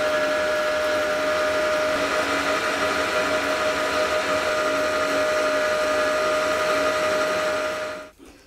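A lathe turning the outer diameter of a part to size for a pneumatic power scraper gives a steady whirring drone with a fixed tonal whine, running loud and unbroken before cutting off abruptly near the end.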